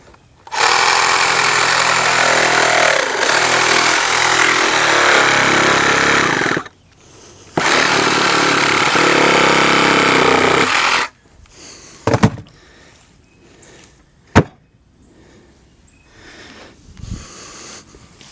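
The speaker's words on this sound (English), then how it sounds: "now when you get done with that, you take your Sawzall" A Sawzall reciprocating saw cutting through material while building a walkway on bare ground: two long, loud buzzing bursts separated by a short pause, then scattered knocks and clatter as the cutting stops.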